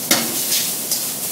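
Noodles and vegetables stir-fried in a little oil in a traditional Japanese iron wok, with a steady sizzle and a few sharp scrapes and clinks of utensils against the metal.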